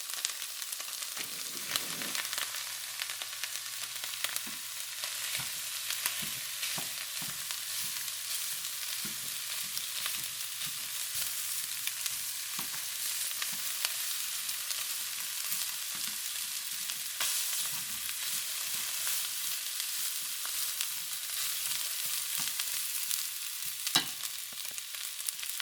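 Chicken yakisoba noodles sizzle steadily in a hot pan, a continuous bright frying hiss with occasional soft clicks and scrapes of stirring throughout.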